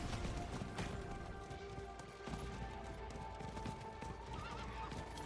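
A horse neighs and its hooves clop in Diablo IV, set against dense game sound and music, with fairly loud, continuous activity.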